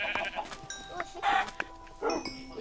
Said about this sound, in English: Damn, these chickens really lay eggs.